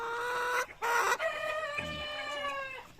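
An eight-month-old upgraded native chicken on a rural farm calls up close with a few drawn-out, tonal clucks and a brief squawk, fairly loud against a quiet background with no talking.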